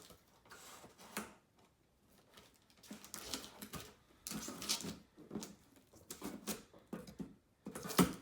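Box cutter slicing through the tape and cardboard of an Every Plate meal kit box, a series of short scratchy cuts and rustles with pauses between strokes, close and moderately quiet.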